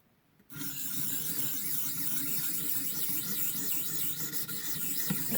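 A cheap steel tanto knife blade scrapes back and forth across a 600-grit sharpening stone, a steady close rasping that starts abruptly and continues evenly.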